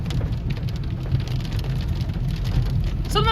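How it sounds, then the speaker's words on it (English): Large hail, some stones nearing two inches across, pelts down during a severe storm near Omaha, Nebraska, a dense, loud, steady clatter of impacts on the ground and surfaces, continuous and close with no let-up. "Wow, lots of hail."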